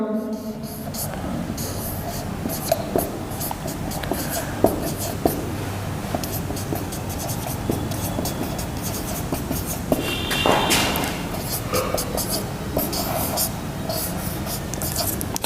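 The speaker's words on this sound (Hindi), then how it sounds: "यह चीज देखिए मैं सेम लिख रहा हूं" Marker or chalk scratches steadily on a board during a chemistry lesson on polymerization, continuous close scraping strokes with occasional taps, while a teacher talks throughout.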